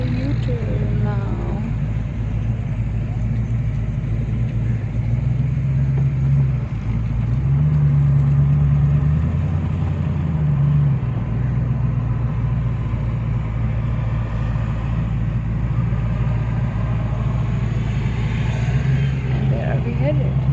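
A restored red 1968 Mustang convertible rumbles along Delhi roads in a vintage car convoy, its engine a steady low drone with occasional swells as it accelerates, heard up close for a sustained stretch.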